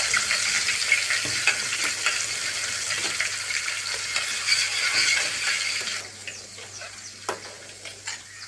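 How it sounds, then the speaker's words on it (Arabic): Garlic and dried coriander sautéing in a generous pour of olive oil, a steady close sizzle with light stirring taps, easing to a quieter fry toward the end. "مع معلقتين من الثوم، معلقتين من الكزبرة اليابسة، خليهم ياخدوا تشويحة."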